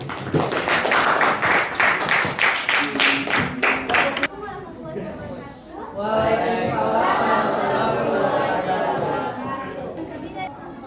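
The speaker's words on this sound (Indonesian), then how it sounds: "Yuk, tepuk tangan untuk kelompok 2." High school class clapping for a student group, a few seconds of quick, uneven hand claps from a roomful of students, then chatter and voices take over.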